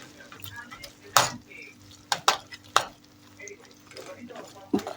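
Japanese curry roux being stirred into a pot, giving a few sharp scraping clacks of a utensil against the pot over a soft kitchen background, with quiet talk nearby.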